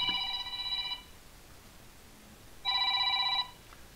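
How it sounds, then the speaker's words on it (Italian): A telephone rings in two electronic trilling bursts of about a second each, separated by a short quiet gap, clear and fairly close in a quiet room. "squilla il telefono"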